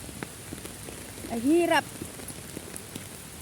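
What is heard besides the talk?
heavy rain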